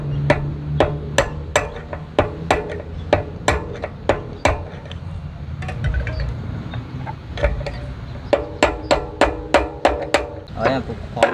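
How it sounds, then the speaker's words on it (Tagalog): A Shimano bicycle hub bearing is driven tight with sharp metallic hammer strikes in quick rhythmic runs, loud and close, pausing in the middle before another fast burst of blows, with faint talk underneath. "Kailangan malakas yung palo nyo dyan para talagang umigpit."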